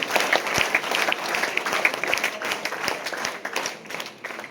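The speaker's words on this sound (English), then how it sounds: "So once again clap for our staff members." An audience claps steadily for staff members at an event, a dense sustained round of applause from a crowd nearby with no talk over it.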